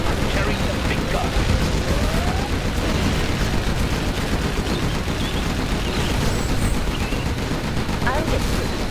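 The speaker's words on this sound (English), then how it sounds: "Get the Gatling tank ready for action. Is it clear? Rapid fire. Gun barrel spinning." Continuous rapid gunfire from a Gatling tank in the real-time strategy game C&C Generals Zero Hour, a dense, unbroken rattling barrage mixed with battle noise and distant explosions.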